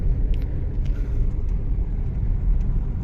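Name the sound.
city road traffic in Delhi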